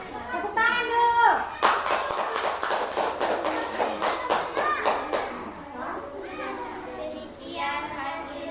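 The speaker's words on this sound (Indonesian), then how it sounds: "Tepuk tangan dulu." A classroom of students clapping hands after a group presentation, a burst of close, lively applause with children's voices chattering before and after it.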